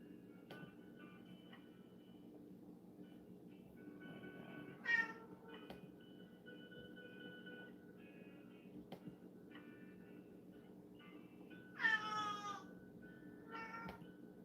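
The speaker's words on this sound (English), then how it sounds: "The cat meow." An indoor cat meows twice, separated by several seconds, each a clear drawn-out call over a quiet room hum, followed by a fainter, shorter sound near the end.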